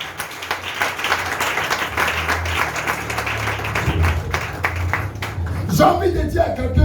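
A church congregation claps and cheers in praise of Jesus, steady loud applause filling the room throughout, with voices calling out over it.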